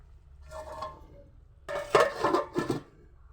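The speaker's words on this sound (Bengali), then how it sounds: "ঢাকনাটা দিয়ে দেবো।" A metal lid goes onto a pot of simmering mixed-vegetable curry, giving a few close clanks and scrapes: a softer contact first, then a louder rattle as it settles.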